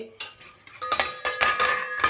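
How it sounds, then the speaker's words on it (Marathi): A tea pot and other dishes scrubbed by hand at a kitchen sink, with repeated clinking, scraping metal knocks in an uneven rhythm, close and fairly loud with no talking. "आपण परत हे भांडे घासायचं हे चहाचं सुद्धा तुम्हाला सांगते"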